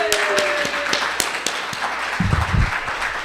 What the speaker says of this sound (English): I want to give a round of applause and a warm welcome to Mr. Larry Lawton